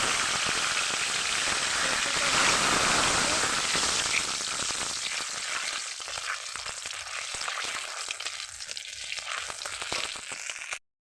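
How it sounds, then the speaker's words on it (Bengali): Bay leaves and cumin seeds frying in hot oil over a wood fire, a close, loud, steady sizzle that eases a little partway through before cutting off abruptly, with no voices. "তেজপাতা জিরে ভাজা ভাজা হয়ে গেছে।"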